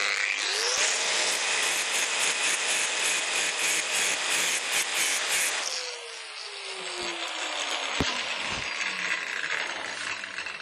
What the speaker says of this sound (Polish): No to resztę trzeba będzie robić niestety szlifierką.